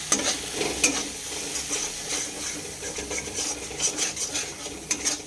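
Chilli powder, turmeric, salt and a little sugar fried in mustard paste in a pan, a steady close sizzle with repeated stirring scrapes and light utensil clinks, no talking.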